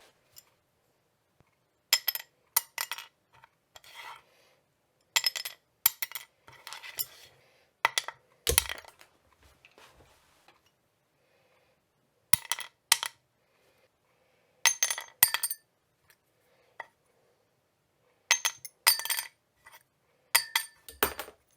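Small guitar saddle pieces of different materials dropped one after another onto a hard surface, each giving a short bright clinking bounce, in scattered clusters separated by silence.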